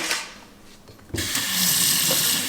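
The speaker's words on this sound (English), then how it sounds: "Cold water's coming out of there." Cold water gushes from a kitchen sink faucet after new push-fit plumbing fittings are installed, starting abruptly with a loud steady hiss and splash that continues, close and without talk.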